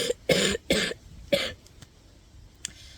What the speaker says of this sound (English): My cough is actually a lot better.